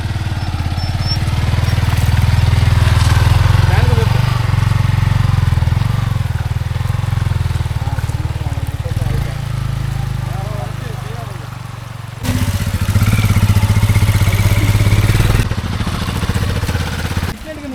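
A motorcycle engine drones steadily while riding off-road on a trip to a waterfall, loud and close, with a louder revving surge near the end and voices talking over it.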